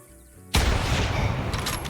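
A single loud rifle shot fired at an animal while hunting in theHunter Classic, a sharp crack followed by a long booming tail that fills the rest of the moment, with no talk.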